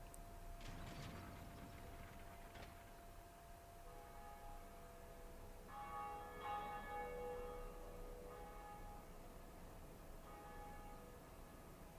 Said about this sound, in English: pull the lever to ring the first bell of awakening